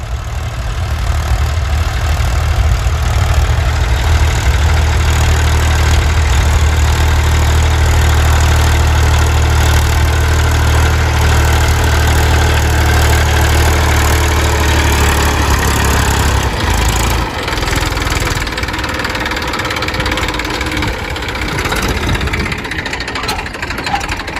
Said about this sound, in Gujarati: તમને બતાવું કઈ રીતે કાઢે છે જો મિત્રો આ ટ્રેક્ટર કાઢે